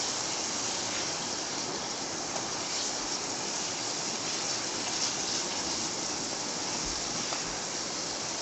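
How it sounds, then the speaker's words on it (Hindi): Water poured into sizzling masala in a pan while cooking tinda curry, a steady broadband rush and hiss that stays even and fairly close for over eight seconds. "थोड़ा सा नमक ये पानी डालूँगी ताकि मसाले जले ना।"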